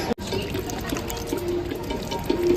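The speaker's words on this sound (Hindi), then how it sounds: "हाथ धो लेते हैं।" Water pours and splashes as hands are washed before entering Nada Sahib Gurudwara, a close, steady running stream with small spatters, after a short dropout at the start, no speech.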